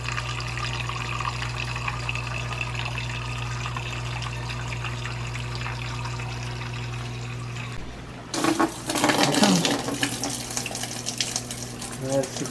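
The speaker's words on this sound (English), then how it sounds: "We've got it just into a bucket so we can verify that it is draining." Maytag Dual Power Filtration dishwasher pumping water out through its drain hose into a bucket, a steady pump hum and flow that stops abruptly and gives way to louder splashing and rushing water near the end.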